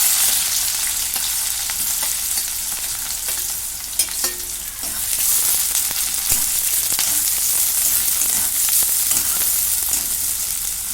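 Cumin seeds and curry leaves sizzle loudly and continuously in hot oil in a kadhai, with crackling pops and occasional stirring scrapes and no talking.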